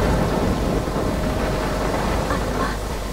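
Stormy weather in the video game Life is Strange, with a loud, steady wash of rain and wind and a low rumble of thunder running through the whole stretch, and no talking.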